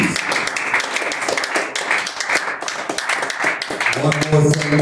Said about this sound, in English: more hand clap of praise.